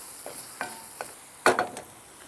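Onions sizzling in a pan over medium-low heat, a faint, soft crackle punctuated by a few brief stirring scrapes and pops, heard up close with no talking.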